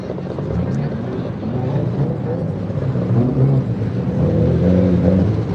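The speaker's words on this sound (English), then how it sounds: "the exhaust is getting really loud now, so I can't even hear myself talking" Loud car exhausts rumbling at a Daikoku car meet in Tokyo, a steady low droning roar with a revving swell toward the end, with people talking underneath.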